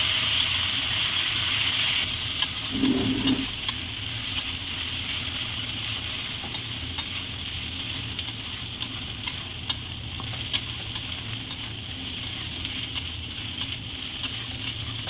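Continuous sizzling and crackling of food frying in a pan, with a dense hiss and occasional sharper pops, steady and close throughout.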